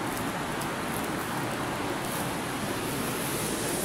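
Water of Devi's Fall waterfall in Pokhara, a steady, dense rushing roar that fills the whole clip evenly without pauses, continuous and fairly close.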